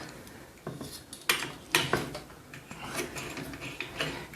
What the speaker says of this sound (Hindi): तो इस स्क्रू को मैं पहले ओपन कर लेता हूँ।